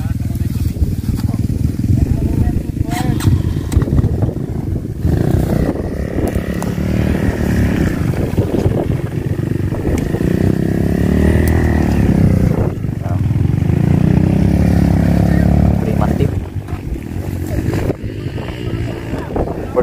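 A motorcycle labours up a steep mountain trail in Benguet with reduced tyre pressure, its engine revving and droning loudly and unevenly while someone talks over it.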